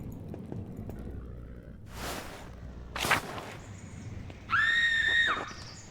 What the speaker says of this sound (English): Sound like a scream coming from the cloister.